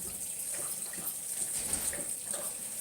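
Kitchen tap running into a sink while washing dishes, a faint, steady hissing stream of water with small splashes and no talking.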